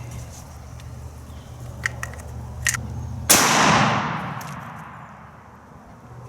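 A single sharp shotgun blast fired for a velocity test with a KSG loaded with slugs, loud and close, its sharp crack dropping into a long decaying echo over a steady background hum.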